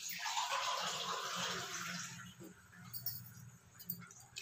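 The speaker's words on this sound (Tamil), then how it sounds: "ஒரு ஜக் அளவுக்கு தண்ணி ஊற்றிக்கோங்க." Water poured from a jug into a cooking pot, a fairly loud splashing pour lasting about two seconds, then fading into quiet clinks and small drips.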